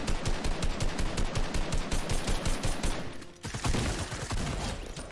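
Sustained automatic gunfire in Fortnite, dense and continuous, with rapid shots stacking into a fusillade, a brief dip, then more firing.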